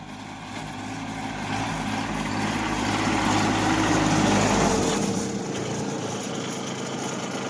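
A loud, steady engine drone with rough churning noise runs throughout, a small tractor working a rotary tiller through soil in sugarcane rows close by; no one speaks.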